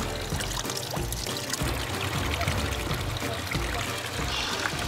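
Gragnano water poured steadily from a container, a continuous trickling stream heard close up with low background rumble, running the whole time under light room noise.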